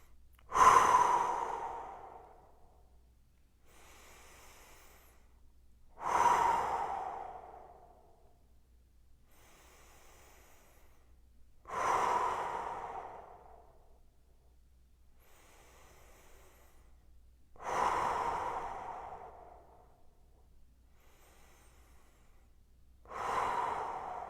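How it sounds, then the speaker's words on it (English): Slow, relaxed breathing during a prone extension exercise, five long exhalations spaced about six seconds apart, each a soft airy rush that fades away, close and quiet with no talking. "Let's take a few breaths here together."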